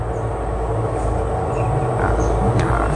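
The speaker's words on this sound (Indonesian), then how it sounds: "Itu suara bising dari kipas blower." A steady, loud mechanical roar of a blower fan near a chicken coop drones continuously with no breaks, a dense low rumble filling the whole clip.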